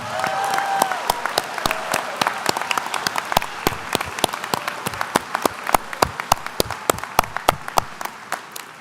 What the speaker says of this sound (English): Let's give our graduates one round of applause.